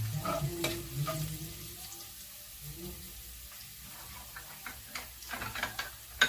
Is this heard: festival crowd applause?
no